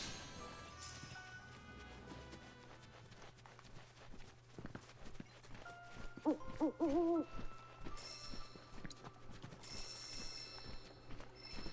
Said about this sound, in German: Da ist so ein komischer Vogel.